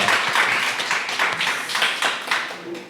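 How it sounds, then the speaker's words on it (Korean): Congregation at a Korean university campus worship service applauding to welcome attendees, a dense wash of many hands clapping steadily throughout, fairly loud and close with no talk over it. "우리 박수로 환영하도록 하겠습니다."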